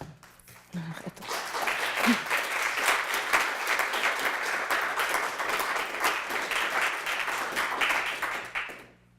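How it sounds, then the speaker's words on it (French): An indoor audience claps together through a sustained, even burst of applause that swells quickly, holds steady for several seconds and then fades out. "C'est gentil d'applaudir."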